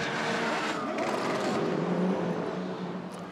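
GT race cars, a Porsche and a Ferrari, battling at Zhuhai circuit in a GT Asia Series race, engines screaming as they pass close by, loud throughout with rising and falling pitch.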